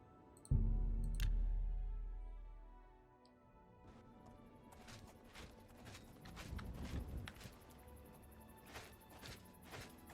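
Horse hooves clip-clop in the video game Oblivion after a sharp thud opens the sequence, with quiet irregular hoof clicks building into a louder, uneven trot.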